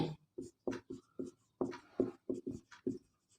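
Chalk tapping and scratching across a classroom board as a teacher writes, a series of short, distinct strokes in an uneven rhythm, fairly close and quiet, with no talking over it.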